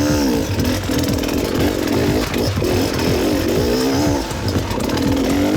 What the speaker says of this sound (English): With more speed, second gear and lots of clutch slipping, it actually becomes easier.